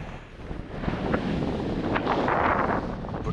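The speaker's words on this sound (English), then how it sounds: "It's turned out nice apart from that wind." Wind gusting on the open Cheviot hills, a loud rushing buffet over the microphone that swells stronger in the second half, steady and roaring with no voices.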